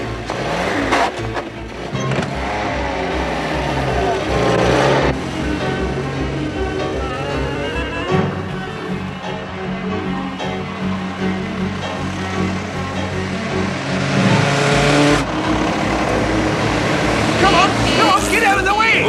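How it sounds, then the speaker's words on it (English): A police patrol car races through a chase, its engine revving and changing pitch as it speeds along, loud and close throughout, with people shouting over the driving. "This is a patrol car, not a chase car."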